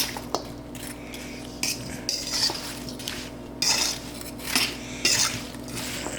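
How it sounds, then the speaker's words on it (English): Apple pie filling stirred in a bowl with a utensil, soft wet squishing and scraping with intermittent clinks against the bowl, close and fairly quiet, no speech. "Now let's stir it in nice and liberally."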